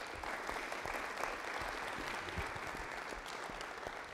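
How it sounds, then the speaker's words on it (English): An audience at a school district foundation awards ceremony applauds its sponsors with steady, sustained clapping from a large crowd, heard at a distance and filling the whole clip. "Can we give our sponsors a round of applause?"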